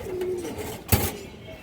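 A pigeon coos nearby in a short, low, rounded call that trails off, followed by a brief sharp knock or flutter near the middle, with quiet background and no talking.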